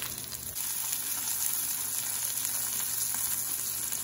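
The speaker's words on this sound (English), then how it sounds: "I like to cook my steak with the fat on it" Ribeye steak frying with its fat left on, on a Blackstone 17-inch E-Series griddle, giving a steady close hiss of sizzling that swells slightly after a quiet start, with no talking.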